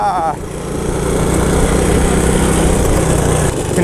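Old Honda three-wheeler ATV, left sitting for years, running with a steady, loud, buzzy small-engine drone, close by and with no talking over it.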